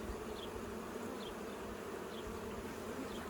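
Honey bees at a hive make a dense, steady buzzing hum, close and unbroken, with no voices.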